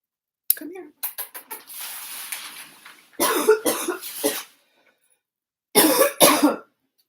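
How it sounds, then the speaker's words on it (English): A person coughs repeatedly, bothered by dusty new cat litter: a run of rapid short coughs, then two harsher clusters separated by silence, close and loud. "It's making me cough."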